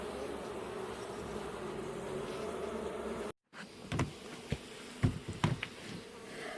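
Honey bees swarm during a hive removal outdoors in misting weather, a dense continuous buzzing hum, followed after a brief cut by closer, louder bursts of buzzing and a few knocks.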